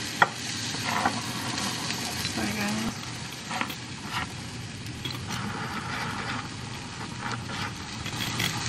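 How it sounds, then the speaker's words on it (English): A double whisk beats a mixture in a kitchen, a fast continuous churning whir with small irregular knocks, moderately faint, with a little talking in the background. "my whisk is like double whisk, like has like a double whisk, so it does it a lot faster"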